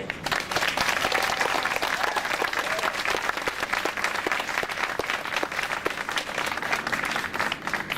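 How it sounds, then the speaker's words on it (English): Sustained, steady applause from an audience at a grand opening celebration for an LGBT resource office at UC San Diego, continuing evenly for the full eight seconds with faint murmuring underneath. "You should give yourselves a round of applause for this fabulous day."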